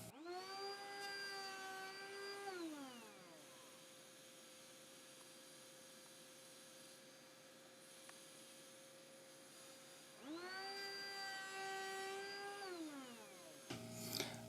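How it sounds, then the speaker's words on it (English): Router table spinning up and cutting a tenon on a small part held in a sled, loud steady motor whine rising and falling twice with a quieter idle stretch between, no talking. "Let's run it through the router table."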